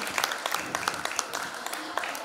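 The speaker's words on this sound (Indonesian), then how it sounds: "Beri tepuk tangan kepada nominator yang sudah sampai di tahap ini." An audience at a pageant's general knowledge and public speaking round applauding the nominees, with moderate, steady clapping and scattered sharper claps mixed with crowd murmur.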